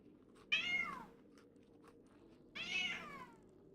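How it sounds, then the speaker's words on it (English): A cat meows twice, about two seconds apart. The meows are clear and fairly close, with falling, drawn-out tones and only quiet room noise between them. "Cat."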